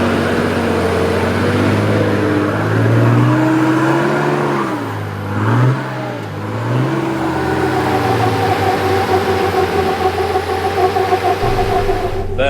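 A 4WD with lockers engaged climbs a rutted track in the Watagan Mountains, its engine loud and near as it revs, labours and rises and falls in pitch, then settles into a steady drone.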